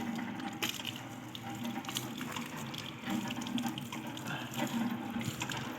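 Water runs steadily from a pipe as someone washes their face at an outdoor spot near the ancient Kapilas temple, a continuous splashing gush with occasional sharper drips and splats, no talking.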